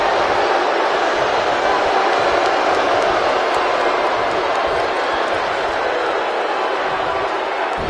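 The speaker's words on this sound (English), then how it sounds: "I don't remember the last time I heard a more passionate crowd than the one we have here tonight." Arena crowd in WWE 2K19 cheering at a pay-per-view event, a loud, dense, unbroken roar that holds steady throughout with no speech over it.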